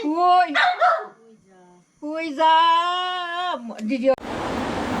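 A dog gives drawn-out, tonal barks and whines in two bursts separated by a short pause, then a sudden rushing noise takes over at the end.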